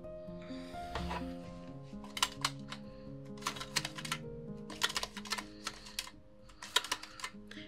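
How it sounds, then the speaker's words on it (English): Small adhesive bandages with Sanrio character prints shaken inside a tin, giving bursts of light rattling and clicking in several short clusters over a faint background tone. "That's the sound of Sanrio character Band-Aids in a tin."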